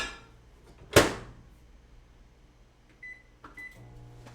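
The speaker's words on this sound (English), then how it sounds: "We're going to put this in the microwave." A microwave oven runs to soften a block of butter, opening with a sharp door clunk, then a low steady hum broken by a few short beeps.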